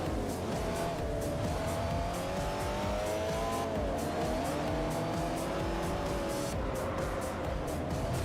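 A race car in Forza Motorsport 4 roars steadily through a tight track while its tires squeal, the engine note rising and falling with gear changes, loud and constant throughout.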